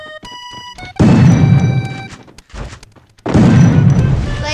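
In the mobile shooter Free Fire Max, two loud, booming gunshot blasts land about two seconds apart, each with a ringing tail, mixed with game sound effects and chimes.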